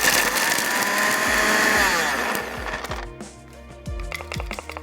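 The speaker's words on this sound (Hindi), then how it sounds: "थोड़े से पानी के साथ आप इसको ब्लेंडर में भी पीस सकते हैं" A blender whirs loudly at close range for a couple of seconds, then winds down into rattling and knocking as it slows and stops.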